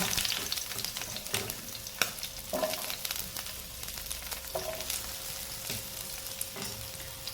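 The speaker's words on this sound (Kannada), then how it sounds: "ನೋಡಿ, ಈಗ ಆಯಿಲ್ ಸ್ವಲ್ಪ ಬಿಸಿಯಾಗಿದೆ. ಈಗ ಕಟ್ ಮಾಡಿದ ಈರುಳ್ಳಿಯನ್ನು ಹಾಕುವ." Chopped onions hit hot refined oil in a pan, giving a continuous close frying sizzle broken by scraping stir strokes and light clinks, with no talking over it.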